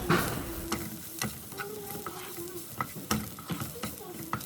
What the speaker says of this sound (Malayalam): 1 ടീസ്പൂണ് മല്ലിപ്പൊടി, അതുപോലെ ഒരു 1/2 ടീസ്പൂണ് മഞ്ഞൾപ്പൊടിയും കൂടെ ചേർത്തിട്ട് ചെറുതായിട്ടൊന്ന് വഴറ്റി കൊടുത്തിട്ട്